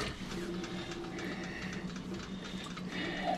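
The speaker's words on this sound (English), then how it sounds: "I'm gonna wash my rice" Tap water runs steadily into a pot of rice being washed, a continuous close splashing hiss that holds for several seconds without speech.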